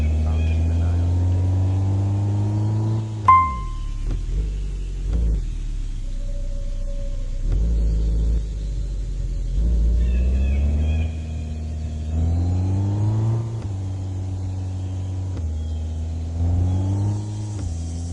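A virtual off-road 4x4 engine in a video game drones steadily, with the revs rising and falling in repeated pulls and one sharp knock partway through. It plays alone with no talk.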